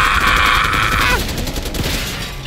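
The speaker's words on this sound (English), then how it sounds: "we're going in guns blazing" Rapid gunfire from a Black Ops 6 campaign firefight rattles in a dense loud burst that fades into scattered shots and rumbling battle noise, all within a few seconds.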